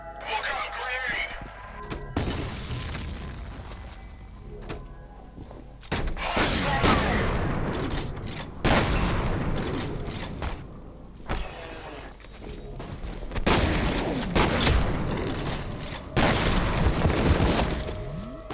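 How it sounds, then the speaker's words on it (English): Gunfire and a grenade blast from the shooter game F.E.A.R., with repeated loud bursts and booming impacts that come in clusters across the stretch, mixed with game noise. "Look out, grenade!"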